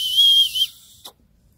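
A single shrill blast from a survival-kit whistle, held briefly and then cut off, followed by a short clatter and quiet.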